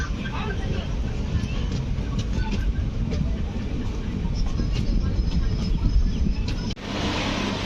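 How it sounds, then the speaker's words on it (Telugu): A MEMU train bound for Kacheguda rolls past near Nalgonda station, heard as a steady, loud rumble and rattle throughout, with a brief dip near the end, while the listener rides another train. "అది కాచిగూడకి వెళ్ళే మెమో ట్రైన్."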